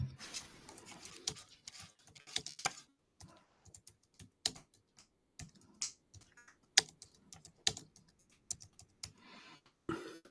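Irregular bursts of typing on a computer keyboard, with scattered clicks and short pauses between groups of keystrokes, close and fairly quiet, with no talking.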